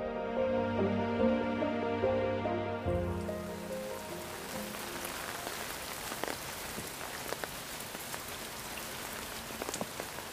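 Steady rain falls at an arboretum in Seoul, a dense even patter on leaves and surfaces with scattered louder drips, filling the scene with no voices.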